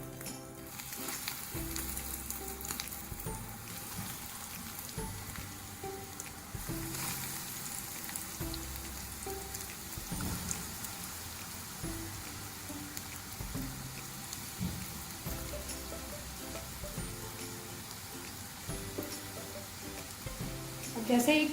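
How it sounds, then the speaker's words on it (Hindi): Potato and chickpea kebabs fry in hot oil over a medium flame, a continuous loud crackling sizzle with faint clinks of a utensil throughout. "अब इसको फ्राई कर कबाब बनाना स्टार्ट करते। ऑयल हमारा गर्म हो चुका है। एक एक करके डालते जाएंगे।"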